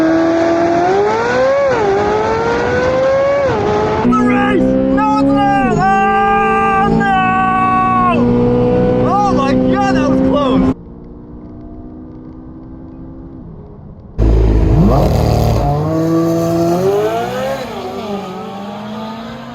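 C8 Corvette Z06 launching at 4,500 RPM in a drag race against a McLaren 570S, loud engine revving up through several gear shifts, a brief quieter gap, then another hard, close acceleration.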